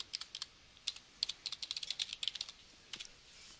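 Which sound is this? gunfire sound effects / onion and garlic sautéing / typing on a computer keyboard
typing on a computer keyboard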